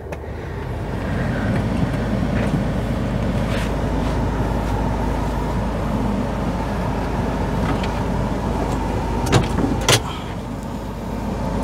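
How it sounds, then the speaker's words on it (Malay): A 2013 Mini Cooper S JCW turbo engine idling after start-up, heard as a steady low hum from inside the cabin with a few small clicks and knocks from the interior. "ini adalah tips untuk kita start enjin kita. Barulah kita tekan brake dan kita start."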